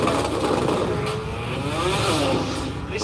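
A rotary-engined Mazda RX3 drag car launches at a drag racing event, its high engine roar rising and shifting pitch as it pulls through the gears, loud but somewhat distant amid crowd noise.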